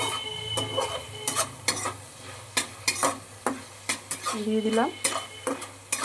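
Whole cardamom, cloves, cinnamon and bay leaf are stirred in a pan, a spoon scraping and clinking against the metal in sharp, irregular strokes over a faint sizzle, with a brief spoken remark.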